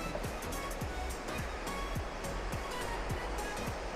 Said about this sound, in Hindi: इवन जो नदी में पानी की आवाज़ यहाँ तक आ रही है